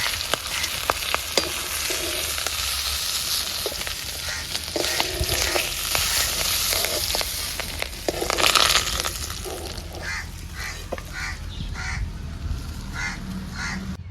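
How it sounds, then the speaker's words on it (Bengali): Pieces of catla fish frying in hot oil, giving a continuous loud crackling sizzle with occasional pops and spatters, close up and steady throughout. "এই দেখো মাছগুলো আবার লাল লাল করে ভাজা হয়ে গেছে এবার আমি তুলে নেব"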